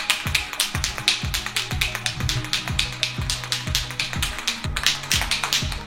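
A spray paint can for recoloring wheel rims is shaken to mix. The mixing ball rattles in quick, steady, evenly spaced clacks that continue without a break, close and fairly loud, with no talking.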